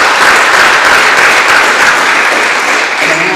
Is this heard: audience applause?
yes